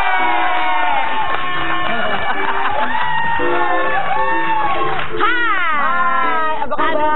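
Studio audience on a TV talk show cheering and whooping for Jupe, a loud, steady crowd roar with shouts and high-pitched yells throughout.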